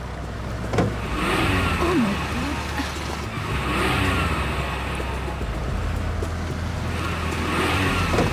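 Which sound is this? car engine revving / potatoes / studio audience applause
car engine revving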